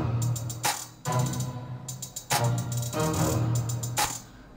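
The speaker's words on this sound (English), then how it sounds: "I'm gonna play with the clap as well" Hip-hop clap sample in an FL Studio beat, sharp claps landing roughly every second over a thumping low bass pattern and rapid ticking hi-hats, loud and up front with no voices.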